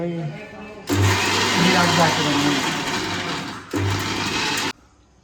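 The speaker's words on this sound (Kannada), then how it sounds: "ಆಮೇಲೆ ಮಿಕ್ಸಿಗೆ ಹಾಕ್ತಾವು." A mixer grinder blending mint whirs loudly and steadily for several seconds, stops briefly, then runs again before cutting off; no talk over it.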